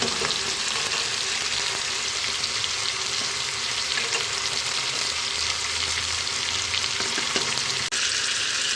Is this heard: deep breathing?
no